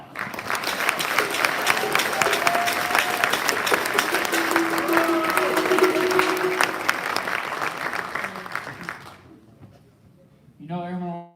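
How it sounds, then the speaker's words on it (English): Audience applause at a military wing's quarterly awards ceremony, a sustained round of clapping from a large crowd that swells and then fades, followed by a voice speaking. "Let's give them all one more round of"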